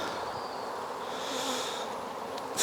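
Honey bees buzzing around an open National 14x12 hive during an inspection, a dense steady drone of many wings, fairly close, with a few higher passing whines.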